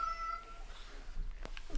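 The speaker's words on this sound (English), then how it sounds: "Cat in the background." A cat meows in the background of a radio show: a faint, drawn-out meow at the start, then quieter rustling and a couple of soft sounds.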